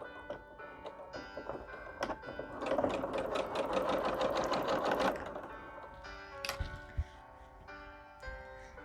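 Sewing machine stitching back and forth to secure thread while converting a men's shirt into a dress, a close rapid mechanical whir with a few short bursts and clicks of the needle and handwheel between runs.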